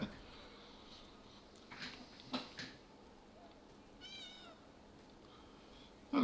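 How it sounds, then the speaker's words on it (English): A cat meows in the video game Elder Scrolls Online, one short warbling call partway through, heard over quiet game ambience with a few soft thumps around it. "Hello, kitty."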